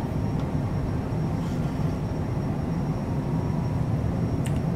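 Cessna CJ4 jet engines at takeoff thrust in a flight simulator: a continuous, heavy low roar holding steady and loud throughout, with a faint high whine and a couple of brief clicks.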